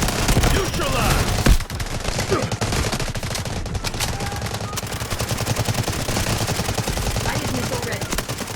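Rapid automatic fire from a Bizon submachine gun in the video game Delta Force Mobile, a sharp rattle of continuous bursts close up, with a heavier blast early on and the firing carrying on steadily.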